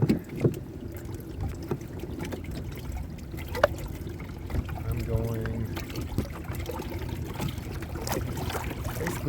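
A pedal kayak glides across open water, a steady wash and trickle of water against the hull with faint splashes and a low rumble throughout, close and continuous, with no talking over it.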